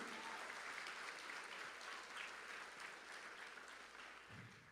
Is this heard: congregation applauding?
yes